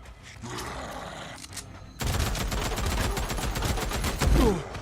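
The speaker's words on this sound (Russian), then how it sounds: "Что-то пулемет какой-то маломощный у вас." A machine gun in Days Gone fires in sustained rapid bursts, loud and close, the dense rattle running from midway to the end after quieter action before.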